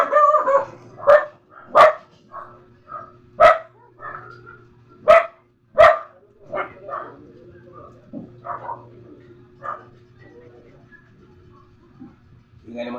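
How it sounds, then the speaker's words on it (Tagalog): Several dogs bark close by in loud, sharp, irregular bursts, with yips and softer barks trailing off toward the end. A voice murmurs faintly between the barks. "Ingay ng mga aso"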